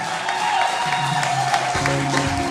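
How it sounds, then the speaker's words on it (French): Wedding guests at a town-hall ceremony clap for the newlyweds, a steady wash of moderately loud applause, with music and voices coming through partway in. "on va applaudir très fort pour les mariés"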